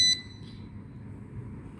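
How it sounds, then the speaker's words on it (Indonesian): A buzzer on an IoT alarm project gives a short, loud, high-pitched electronic beep at the start, followed by a faint second blip and then quiet room hum. "buzzer ini fungsinya untuk memberikan suara sesuai dengan fungsi yang sudah dibuat di codingan"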